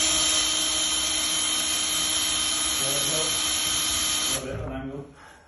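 A power drill boring through the hard plate of a British Standard mortice lock, a loud, steady whine that drops in pitch and winds down near the end, no speech over it.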